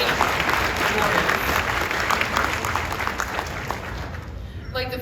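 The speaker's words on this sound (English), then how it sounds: "Let's give another round of applause for all the scholarship and financial aid awards." A crowd claps steadily through a high school Class of 2022 graduation ceremony in Surry, Virginia, dense even applause that fades slightly toward the end.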